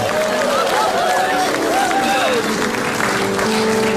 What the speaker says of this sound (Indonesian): Tepuk tangan untuk calon Tom.